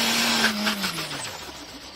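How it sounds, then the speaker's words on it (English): A turbocharged car's blow-off valve vents with a short high whistle that slides downward while a rushing hiss fades out, faint and heard alone. "These are what you hear on turbocharged cars when you let off the throttle. That high-pitched whistle or that rushing noise that comes out."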